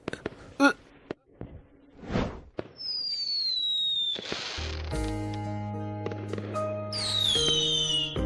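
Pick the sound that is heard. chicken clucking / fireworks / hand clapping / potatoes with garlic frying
fireworks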